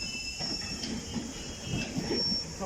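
A London Underground Metropolitan line train at Wembley Park station gives a steady, moderately distant rumble with a thin high whine from the rails, continuous and fairly quiet throughout.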